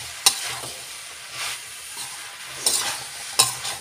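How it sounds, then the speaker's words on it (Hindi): Mixed vegetables being stirred in a pan, a soft scraping and sizzling texture with a few sharp spoon clinks against the metal, steady and close. "बहुत अच्छे से मिक्स कर दीजिए।"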